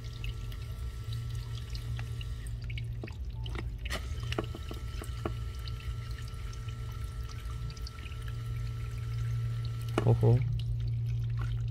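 Water flowing and dripping through a smart farm irrigation drainage pump, with a low steady hum beneath scattered drips and gurgles that build to a louder slurp near the end; a man mutters briefly.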